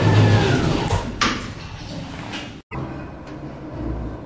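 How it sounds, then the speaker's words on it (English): Lift doors of a Schindler 3300 elevator in the Roblox video game sliding shut, a close sliding rumble with a sharp knock, then a brief silence and a quieter hum. "Door closing."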